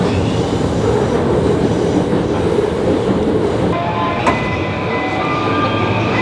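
A train at a Tokyo station gives a loud, steady rumble that runs through the whole stretch, with a brief higher screech or horn-like tone partway through and sustained hum afterward.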